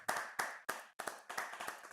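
An audience claps in several short bursts of hand claps, each sharp onset fading quickly, with brief gaps between bursts, moderately near and clear with no talk over it.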